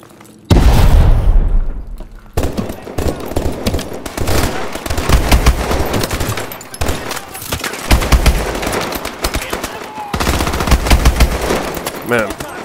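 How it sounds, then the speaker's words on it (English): A flashbang grenade goes off in Call of Duty Advanced Warfare, a loud burst followed by ringing, then dense machine-gun fire and explosions continue, close and heavy, with a voice now and then. "Flashbang!"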